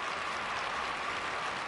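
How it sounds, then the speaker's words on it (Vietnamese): Studio audience applauding to welcome a family on a Vietnamese television show, a steady, dense burst of clapping heard alone and close. "Chúng ta cho một tràng pháo tay"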